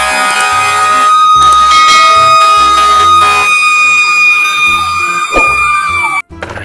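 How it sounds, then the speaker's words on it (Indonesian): A toy fire truck siren wails loudly and close, with electronic tones sliding and a horn-like blare, cutting off abruptly near the end. "masih ada mobil pemadam kebakaran."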